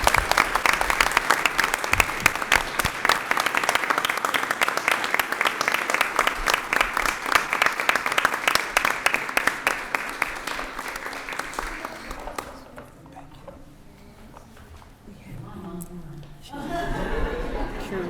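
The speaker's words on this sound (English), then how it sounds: "Would you please join us in giving them a warm round of applause?" A room at a school board of education meeting breaks into dense, sustained applause with some chuckling for about twelve seconds, then it dies away and a person begins speaking.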